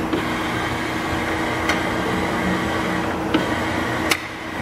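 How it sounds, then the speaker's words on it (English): Hydraulic system running on a Fortuna universal ID/OD grinder: a loud, steady mechanical hum and whir that holds without a break, marked by a few faint clicks. "Now we're gonna turn on the hydraulics."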